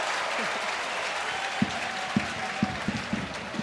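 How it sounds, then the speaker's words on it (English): Home fans at a DFB-Pokal football match between Wehen Wiesbaden and FC Bayern München clapping and cheering in a steady wash of applause, with faint commentary over it. "they are celebrating those moments, the home fans, and rightly so"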